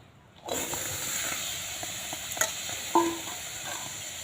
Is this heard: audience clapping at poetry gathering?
no